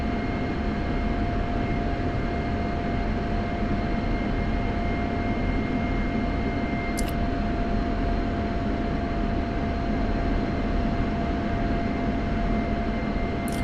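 F-16 Viper fighter jet taxiing in the DCS flight simulator, a constant loud engine roar with steady whining tones that stays unchanged throughout, broken only by a brief faint click midway.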